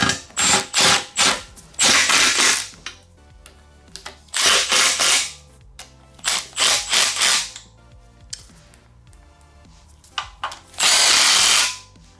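A power tool tightens oil pan bolts in repeated loud, short bursts of whirring and ratcheting, separated by quiet pauses, with a longer burst near the end.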